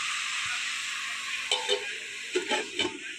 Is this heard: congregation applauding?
no